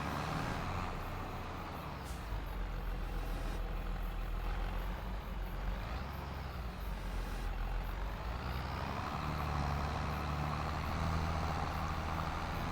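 A truck reversing in the Farming Simulator 25 farming game, its engine droning steadily throughout with faint repeated backup beeps and a brief air-brake hiss, no voices.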